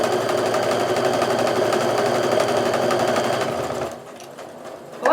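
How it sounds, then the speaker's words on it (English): A sewing machine runs steadily for about four seconds as it stitches a scant quarter-inch seam along a drawn line on a quilt block, then the motor stops, leaving near-silence and a small click at the end. "I still have my machine set up to sew a scant 1/4 inch stitch"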